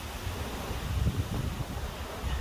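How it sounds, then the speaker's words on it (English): Steady wind gusts across an exposed hilltop churchyard, a low rumbling buffet on the microphone that swells and eases without pause. "It's pretty windy up here today"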